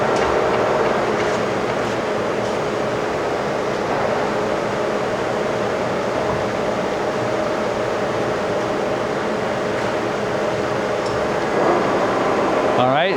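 Poreba 32 by 200 inch heavy duty lathe running in reverse at a higher speed, a loud, steady mechanical hum and whir with a faint tonal whine throughout.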